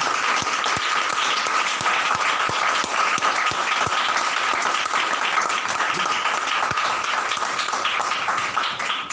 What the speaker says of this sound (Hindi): खुदा की कलीसिया के लिए एक बार जोरदार तालियां